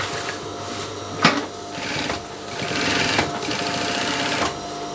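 An electric sewing machine stitches the waistband of a pair of drawstring shorts, its steady mechanical whir running close and loud for several seconds, broken by a sharp click and a few brief pauses and restarts.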